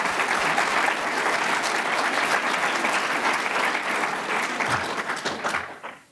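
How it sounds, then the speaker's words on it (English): An audience at an awards evening applauds the organisation's staff, with sustained loud clapping throughout that tapers off at the end. "I want to give you some applause."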